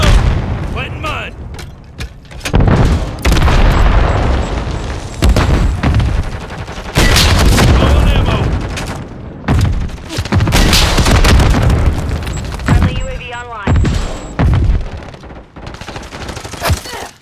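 Stun grenade blasts and rapid gunfire in Call of Duty come as loud, repeated bursts and booms separated by short lulls.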